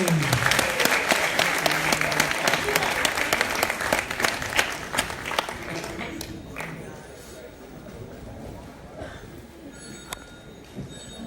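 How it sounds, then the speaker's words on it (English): Audience applause for boxer Lucas Matthysse at a press conference, dense clapping that thins out after about six seconds into scattered claps and room noise, with some talk in the background. "please give a big round of applause for your champ, Lucas Matthysse"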